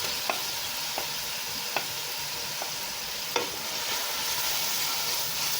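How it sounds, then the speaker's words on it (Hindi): Garlic and ginger paste frying in a pan, a steady soft sizzle with a few faint clinks of stirring, close and without voices. "जब लहसुन अदरक भी भुन रहा है हमारा"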